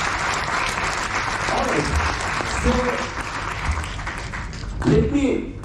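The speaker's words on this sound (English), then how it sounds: "Big round of applause to East Mojo team." An audience at a national conference claps in sustained applause, a dense wash of hands that swells and fades while a voice speaks over it at intervals.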